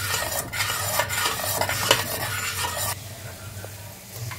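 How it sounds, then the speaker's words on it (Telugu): A spoon stirs a thick avakai mango pickle mixture, with wet scraping and sloshing strokes in a steady rhythm, close and fairly loud, and a lower steady hum underneath that eases off partway through. "ఒక స్పూన్ పెట్టి దాన్ని ఇప్పుడు మనం ఇట్లా మిక్స్ చేస్తూనే ఉండాలన్నమాట"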